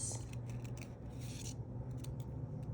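Scissors snipping around a paper logo, a run of soft, close crisp cuts and rustling paper against a low steady hum, with no one speaking.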